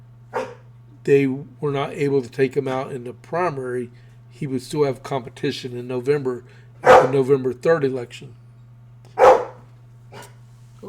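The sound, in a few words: dog barking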